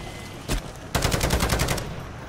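Entry gun firing in a video game: a single shot, then a rapid burst of about nine evenly spaced loud reports lasting nearly a second, close and alone with no talk.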